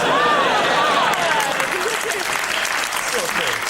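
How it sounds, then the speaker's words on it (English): Steady applause from a crowd fills the whole stretch, dense and fairly loud, with a faint voice or whistle-like tone drifting through early on. "Slightly fewer people clapping than I noticed."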